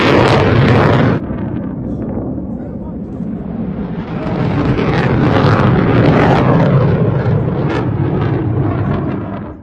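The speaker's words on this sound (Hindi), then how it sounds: "तो एक के बाद एक मिसाइल लगी जा रही है।" Missile strikes and interceptor explosions from Iran's attack on Israel: loud, continuous rumbling booms and roaring blasts, with a sharp cut near the start and a sustained, swelling roar through the rest.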